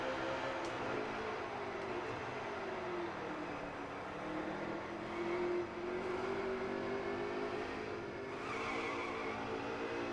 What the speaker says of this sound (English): It's the downshifts. The downshifts don't quite sound right.